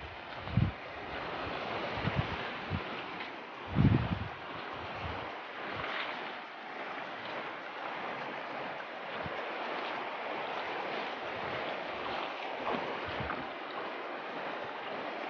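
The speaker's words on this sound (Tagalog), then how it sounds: "Ayan, bali tatawid na po tayo ng ilog." Water rushes and splashes steadily as someone wades across a cold river in the rural countryside, with a few heavier sloshing steps near the start amid continuous flowing noise.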